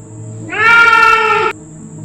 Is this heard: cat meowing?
yes